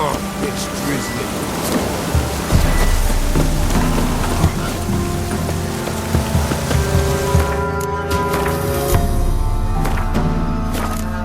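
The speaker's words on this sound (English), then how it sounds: "Oh, it's drizzling." Light rain drizzles in The Witcher 3: Wild Hunt on PS4, a soft steady patter spread evenly through the whole stretch, mixed under game music and a talking voice.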